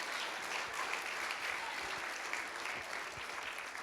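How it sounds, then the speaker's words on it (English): A live audience applauds the pastor and his wife at a Christmas fun night, with steady, dense clapping from a full room throughout and no break. "Give Pastor a big round of applause"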